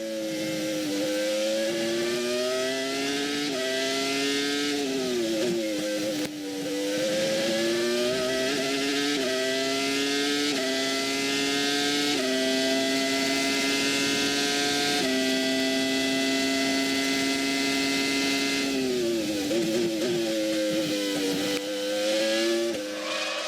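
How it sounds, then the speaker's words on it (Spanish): Ferrari F2001 V10 Formula 1 engine from 2001, driven by Rubens Barrichello at Monza, screams at high revs with rising and falling gear changes, loud and continuous throughout, with faint crowd and track ambience. "el sonido del Ferrari de Rubens Barrichello"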